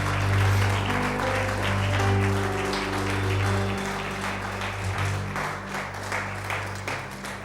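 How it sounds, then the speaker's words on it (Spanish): A church congregation at a Spanish-language sermon gives steady, dense applause, loud and close at first and gradually thinning, with a sustained organ or keyboard chord held underneath. "Vamos a darle un aplauso al Rey de Reyes"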